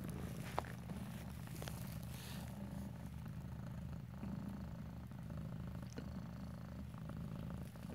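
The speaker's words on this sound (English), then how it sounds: "Oh, Stella purrs." A kitten purrs close up indoors, a soft, continuous low rumbling throb that holds steady with no break.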